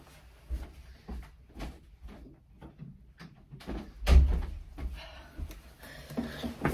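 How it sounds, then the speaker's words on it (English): A house door is pushed shut among several soft knocks and bumps, with one louder thud near the middle and quieter handling sounds before and after, heard alone. "let me close the door"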